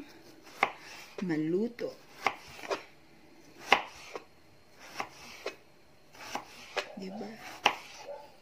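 A knife chops vegetables thinly on a cutting board for lumpiang toge, sharp separate knocks at an unhurried pace, close by, while a person talks briefly between the cuts.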